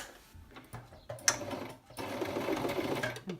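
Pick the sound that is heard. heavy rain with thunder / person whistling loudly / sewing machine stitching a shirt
sewing machine stitching a shirt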